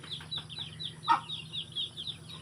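Chickens clucking in a netted pen at a rural farm where ducks are also kept, a run of short, close clucks with one louder squawk midway, over a steady low hum.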